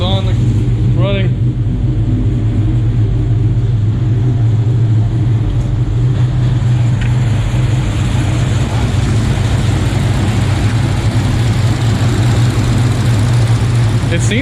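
A cammed Dodge Charger R/T running on E85 idles steadily with a deep, loud rumble that holds throughout.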